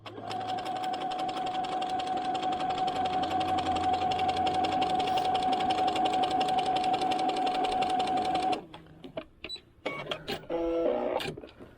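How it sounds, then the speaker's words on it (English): A sewing machine runs steadily for about eight seconds, stitching doll clothes with very small stitches, then stops, leaving brief clicks and handling sounds. "So let's see if we can get to sewing."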